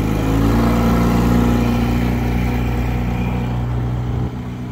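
A 1958 Buccaneer 5hp outboard motor drones steadily at close range on a boat outing near a beach, a loud constant buzzing hum that drops slightly in level near the end.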